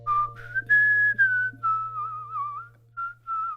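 A person whistles a wavering, sliding tune in several phrases with short pauses, close and clear over a steady low hum, during a Football Manager 2016 session.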